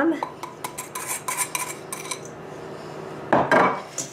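Eggs, extra yolks and sugar are mixed in a bowl for an easy lemon cake: close, rapid utensil clatter and scraping against the bowl in uneven bursts, with a louder knock near the end.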